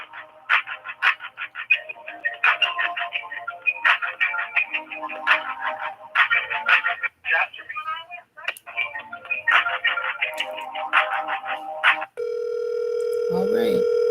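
Electronic telephone ringing in repeated trilling bursts separated by short gaps, fairly loud and close, ending with a steady tone after the last ring.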